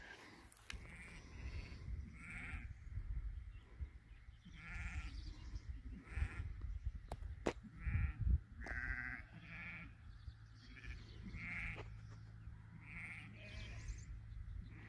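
Goats and sheep graze together on clover pasture, bleating now and then in scattered, moderately loud calls over a steady outdoor background, with no talking.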